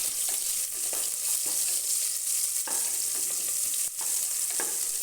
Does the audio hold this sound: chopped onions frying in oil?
yes